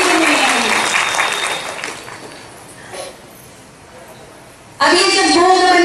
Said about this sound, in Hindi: तो एक बार अपने लिए ताली तो बजाओ